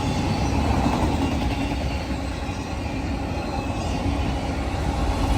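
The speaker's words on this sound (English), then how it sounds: "as this train is passing" A train rolls past nearby in Cornwall, Ontario, a loud continuous rumble of railcars with steady wheel noise throughout.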